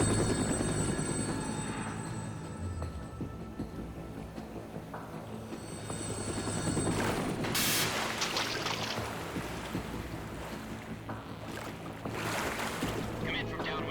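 Helicopter in Metal Gear Solid 2, a dense continuous rotor and engine roar with a broad wash of noise rising and surging midway, loud and sustained throughout.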